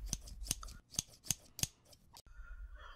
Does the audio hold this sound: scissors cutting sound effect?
yes